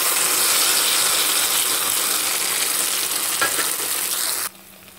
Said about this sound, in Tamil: இப்போ இந்த இருக்கிற நெய்யிலே வந்து இந்த அரைச்சி வச்சுருக்கோம் இல்லைங்களா, அந்த கோஸு இதிலே வந்து போட்டு நல்லா வறுத்துக்கலாம்.